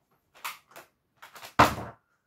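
A door is opened in a home, giving a short sequence of soft clicks and handle knocks followed by a louder latch clunk and a brief creaking swing, heard close by.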